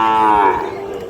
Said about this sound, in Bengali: একই সাইজের 3টি বাছুর।